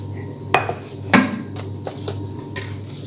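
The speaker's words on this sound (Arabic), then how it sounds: "هبدأ احط كل عبوات الجيلي في الطبق ده." Jelly packets are set one by one into a serving dish in a home kitchen. A few sharp clicks and clinks sound close by with pauses between them.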